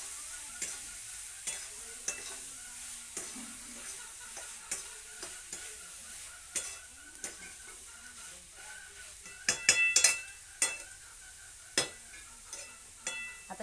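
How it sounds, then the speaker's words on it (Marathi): Sprouted beans being sautéed with half-roasted masala in a pan: a low steady sizzle under repeated sharp spoon scrapes and clicks, busiest around the middle, with no talking. "हे बघा, ह्याला परतून घ्यायचं ह्या मसाला संग"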